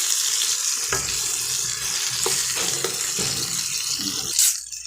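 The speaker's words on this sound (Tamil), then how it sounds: "இதோட நான் ஒரு 4 முந்திரி பருப்பு போட்டு வதக்கிக்கிறேன்" A few cashew nuts sautéing in a pan give a continuous close sizzle, broken by occasional stirring clicks and scrapes, before cutting off abruptly at the end.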